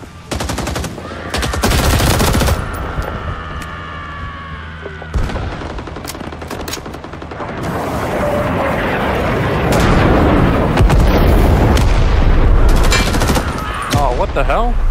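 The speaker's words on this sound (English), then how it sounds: "I got napalm." A napalm strike in a shooter video game: heavy booming explosions and a roaring burn mixed with sustained automatic gunfire, loud and chaotic throughout, with sharp blasts early and a building wash of fire later.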